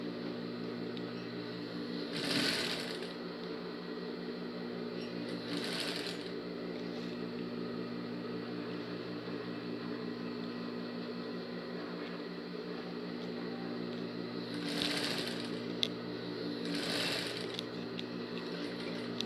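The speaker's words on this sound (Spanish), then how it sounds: "Acá estoy cosiendo a 1 centímetro de costura" A sewing machine runs steadily, its even mechanical hum stitching a 1 cm seam through two layers of fabric for a women's overall, with a few brief louder whooshes rising over the drone.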